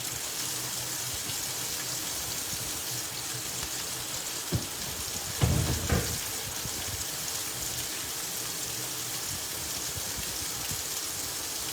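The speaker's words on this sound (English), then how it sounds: "Let's rinse out this chopping board." Tap water runs steadily over a chopping board in a home kitchen while chicken and shrimp alfredo is cooked, a constant hissing wash with a brief louder splash of rinsing midway.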